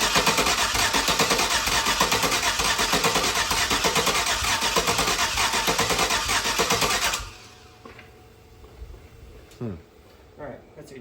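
An LS 5.3 V8 in a Chevy Nova cranks in a garage for about seven seconds, a loud, steady, rhythmic churning that then cuts off, leaving quiet clicks and faint sounds.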